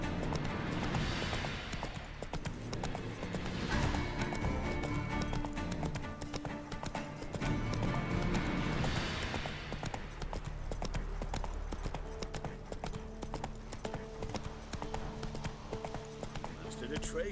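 The horse Roach gallops at speed in The Witcher 3, with dense, driving hoofbeats running throughout over swelling game music and ambience, joined by a voice.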